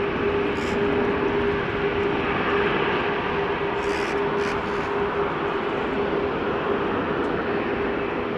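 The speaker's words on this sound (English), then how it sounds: "With a BizJet landing on runway 22." A business jet landing on runway 22 at Amsterdam Schiphol Airport in rainy weather, a steady loud distant engine roar with a droning tone holding throughout, no talk.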